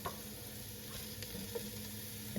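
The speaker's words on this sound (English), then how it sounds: "we're gonna deglaze and get the process started with that white wine." Risotto rice in a pan sizzling steadily as white wine is poured in to deglaze, a close, even hiss and crackle with small stirring scrapes and no voices.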